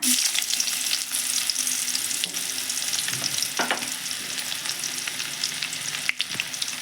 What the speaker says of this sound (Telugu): ఆయిల్లో నేనైతే ఉల్లిగడ ముక్కలు వేస్తున్నానండి కొద్దిగా